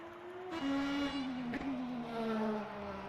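A race car engine in a racing video game drones at high pitch, shifting gear once and holding a steady, loud whine as it runs close by.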